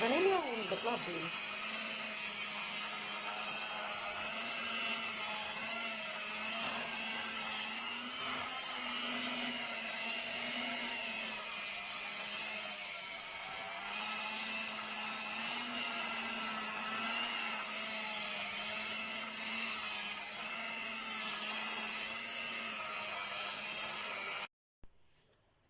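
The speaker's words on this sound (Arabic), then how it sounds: "نضرب بقى كويس فيها كده لحد ما تفكك معانا كلنا" An electric mixer beats cold ghee into a creamy base for ghorayeba cookie dough, giving a continuous high whine that wavers slightly in pitch as the beaters work, close by, then cutting off abruptly at the end.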